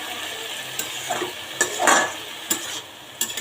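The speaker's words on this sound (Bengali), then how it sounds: "এটা একদম ভাজা ভাজা হবে" Food fries in a pan with a soft continuous sizzle, broken by a few brief clinks and scrapes of a utensil against the pan, nearby with no voices.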